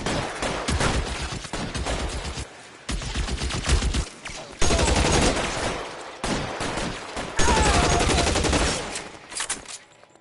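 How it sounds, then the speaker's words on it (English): Tommy gun firing in L.A. Noire: loud, sustained bursts of automatic fire in several long volleys separated by brief pauses, with sharp rattling shots and echoing reports, no voices present. "My Tommy gun, boy."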